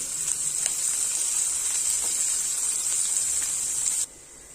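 Chopped onion sizzling in hot oil with cumin seeds, a steady bright frying hiss with faint crackles that cuts off abruptly near the end.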